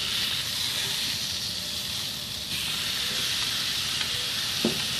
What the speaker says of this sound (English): we're going to go skin side down on these grill grates. Go a couple minutes on each side, get a good quick sear on these